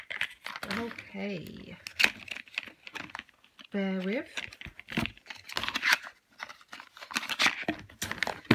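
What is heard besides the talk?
unwrapping serum bottle from crinkly packaging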